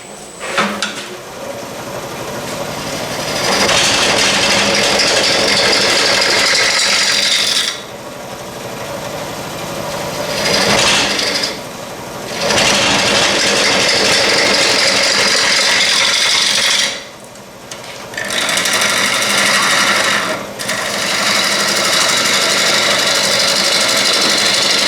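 Gouge pull cuts on a natural edge bowl turned from a tree limb on a wood lathe make loud, rasping, scraping passes in several long bursts, with brief pauses between them.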